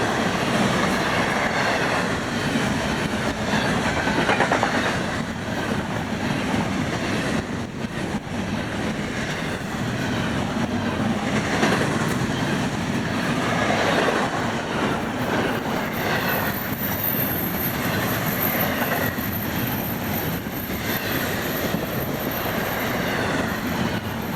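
A Florida East Coast Railway freight train rolls steadily past, with continuous rumbling, clattering wheels and a faint high squeal, no voices.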